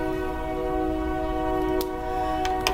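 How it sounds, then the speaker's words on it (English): A train passing in the distance, its horn sounding as a steady sustained tone, fairly faint throughout, with a few sharp clicks near the end. "there is a train going by"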